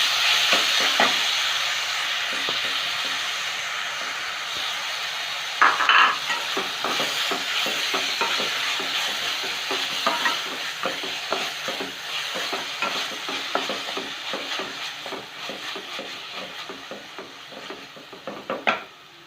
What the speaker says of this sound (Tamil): இப்போ இதில் இந்த ஆப்பிள் அதே நெய்யில் ஆப்பிள் போட்டு நல்லா வதக்கிக்கலாம்